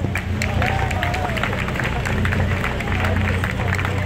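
A crowd at a car club awards gathering claps steadily, the applause dense and fairly loud over a low background rumble, with murmuring voices mixed in throughout.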